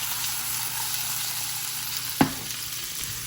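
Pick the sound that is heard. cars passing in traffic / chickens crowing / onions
onions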